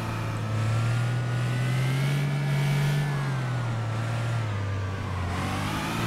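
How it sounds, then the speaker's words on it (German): Nissan Silvia S14 engine in City Car Driving holding a loud, steady mid-pitched drone, rising slightly as it revs, then easing back, with no talk over it. "wir will mal richtig driften hier"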